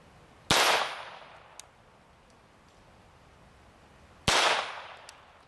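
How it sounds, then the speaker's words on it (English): Two sharp .22 long rifle pistol shots strike a titanium plate, each a loud crack with a bright ringing tail, spaced about four seconds apart with faint ticks between. "Starting it off right with a .22 long rifle out of this pistol."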